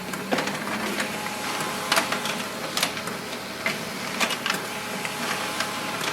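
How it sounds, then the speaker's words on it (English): An HP LaserJet Pro 3004dw laser printer prints two-sided, giving a steady mechanical whir with irregular clicks and clacks from the paper feed, heard alone and close. "So this printer can do two-sided printing"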